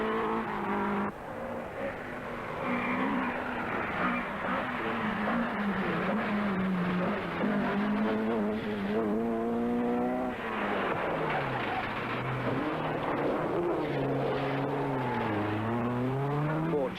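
Rally cars race flat out along a stage of the 1981 Circuit of Ireland, engines revving and climbing through gears continuously for the whole stretch, loud and close with overlapping pitch sweeps as cars power past.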